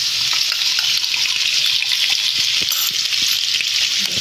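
Ginger garlic paste and cumin seeds sizzle in hot oil for a paneer masala, a steady, close broadband frying hiss with small crackles and a few faint clinks, no talking.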